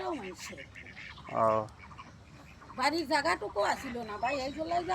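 Ducks at a duck farm give a few close, honking quacks in a short burst, and people talk over and around them.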